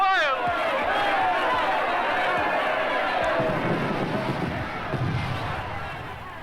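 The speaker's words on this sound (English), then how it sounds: "People are going wild." A boxing crowd roars after Joe Louis knocks out Schmeling in the first round, a loud, dense wave of cheering and shouting on an old recording, with a voice talking over it.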